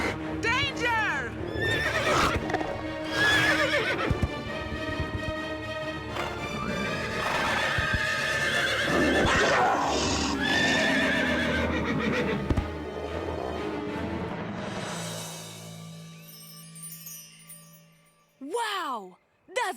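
Cartoon horses neigh and whinny repeatedly over clip-clopping hooves and a light jingle, loud and close, with voices talking among the sounds and a sharp whinny near the end.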